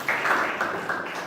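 An audience at a mangrove advocacy gathering claps steadily for about a second, a dense burst of many hands heard alone.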